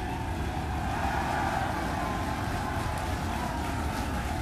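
A SpaceX Starship rocket lifts off with a steady, dense, loud roar that stays constant throughout, a continuous broadband rumble heard from a distance.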